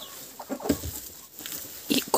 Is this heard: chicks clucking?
yes